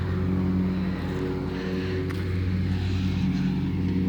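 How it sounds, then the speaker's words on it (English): A lawn mower engine drones steadily in the background throughout, a continuous low hum with no speech over it. "Yeah, you can definitely legit hear the mower in the background."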